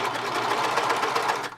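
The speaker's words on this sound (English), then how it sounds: "Now you can see how I'm stitching my fabric" Serger 1034D sewing machine stitching cotton or stretch fabric, a steady fast mechanical whir with rapid even stitch chatter running loud and close throughout, easing off only at the very end.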